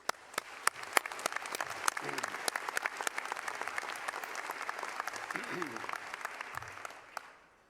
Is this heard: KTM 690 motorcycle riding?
no